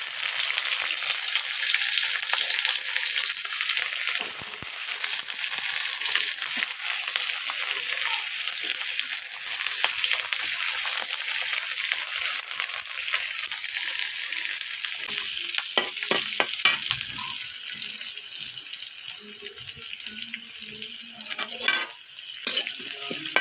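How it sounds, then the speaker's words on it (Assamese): Onions fry in oil in a wok with a constant, fairly loud sizzle, joined later by clinks and scrapes of stirring. "পিঁয়াজ দি অলপ ভাজি ল'ম"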